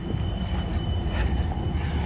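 A tram passing along a street in Amsterdam gives a continuous loud rolling rumble with a faint high metallic ring from the rails. No voices are heard over the short pass.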